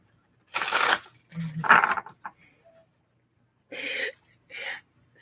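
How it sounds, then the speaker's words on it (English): Tarot or oracle cards being shuffled for a reading, several short riffling bursts separated by pauses, close by, with no talk. "Last shuffle."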